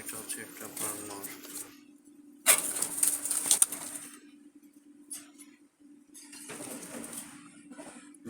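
Jalali pigeons move about and flap their wings in two short bursts of flutter and scuffling, over a low steady hum with quieter stretches between.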